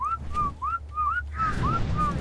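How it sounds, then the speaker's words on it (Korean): Whistling in the video game ARK: Survival Evolved to command dinosaurs sounds as a rhythmic series of about eight short, rising, chirpy whistle notes, clear and fairly close over a low game rumble, with no talk. "휘파람 불어서 그냥 다 데리고 나와."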